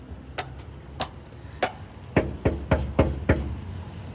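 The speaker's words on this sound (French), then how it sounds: "Comme il est écrit, toc toc, je vous ouvre la porte." Knocks on a shop door, several single raps spaced out and then a quicker run of five firm, close knocks, with no talking.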